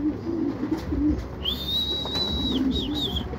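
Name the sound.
racing pigeons returning home in the rain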